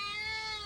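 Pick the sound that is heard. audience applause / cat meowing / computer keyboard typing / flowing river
cat meowing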